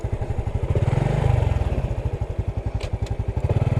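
A Honda XRM 125 Fi motorcycle set up as a motard idles close by with a steady, rapid single-cylinder putter, briefly swelling in a light rev before settling back to an even, loud pulse with no talk.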